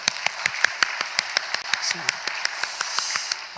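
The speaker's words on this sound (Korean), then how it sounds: "우리 아버지 하나님 앞에 감사의 박수 한번 드릴까요?" A church congregation clapping in a brisk, steady rhythm, fairly close and continuous for several seconds.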